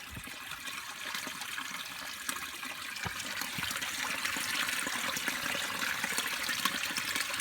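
A spring's water bubbling up and trickling steadily, a constant soft gurgle outdoors on the Appalachian Trail with no voices.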